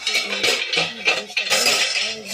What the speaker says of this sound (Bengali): ঢাকনা লাগিয়ে দেবো।